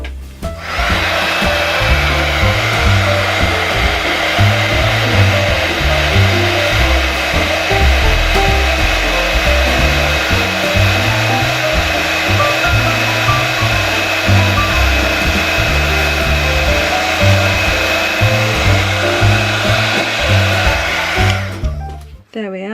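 A heat gun melts embossing powder on a handmade greeting card, blowing as a loud, steady, close whooshing drone for about twenty seconds before cutting off.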